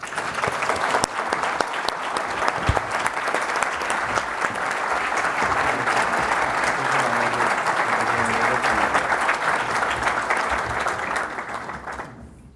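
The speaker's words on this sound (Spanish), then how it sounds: "Recibamos a Iván Duque con un fuerte aplauso" A forum audience gives a sustained round of applause to welcome Iván Duque, loud and even clapping that keeps going for several seconds before tapering off at the end.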